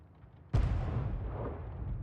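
A video game tank gun fires, a single sudden heavy boom after a quiet low rumble, followed by a long rolling roar of the shot and impact that decays slowly, loud and close.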